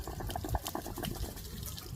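Water gushes steadily from the relief valve of an RV water heater, a dense, close splashing flow with no talking over it.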